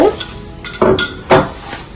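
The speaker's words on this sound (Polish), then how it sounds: "Wszystko dokładnie mieszamy" A utensil clinks and scrapes against a bowl while a cucumber and cheese salad is mixed with sauce, making three distinct knocks with quiet pauses between them.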